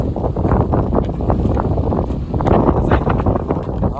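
Strong wind gusts across an open village, a loud, steady broadband roar with rumbling buffeting on the microphone that swells and eases slightly throughout, with no voices.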